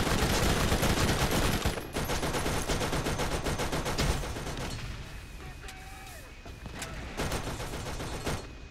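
Rapid automatic turret fire in Borderlands rattles in dense, loud bursts that ease briefly near two seconds and fade somewhat toward the end, with a few sharp impacts and no talking.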